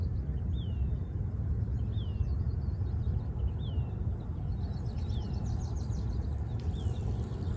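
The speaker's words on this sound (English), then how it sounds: "I choose to hear the bird's song." Birdsong outdoors: a single bird repeats a short, clear whistled call about once a second, fairly faint over a steady low background rumble.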